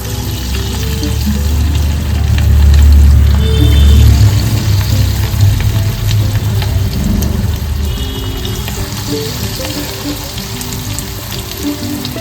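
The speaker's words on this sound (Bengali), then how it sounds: "এরপর আমি ম্যারিনেট করা চিকেনগুলো এক এক করে আমি এর মধ্যে দিয়ে দেবো" Marinated chicken pieces for Gondhoraj chicken fry go into hot refined oil, giving a loud, steady, close crackling sizzle that swells briefly early on and then holds at a dense bubbling hiss, with no talking.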